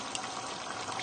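A 500-gram carton of passata pours into a cooking pot of bolognese, a brief, steady, thick liquid glug and splash heard up close at moderate volume.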